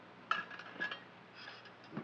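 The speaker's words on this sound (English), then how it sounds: "Get these pans out of the way." Faint metallic clinks and a soft clatter of cookware being shifted, a few brief knocks in a quiet room.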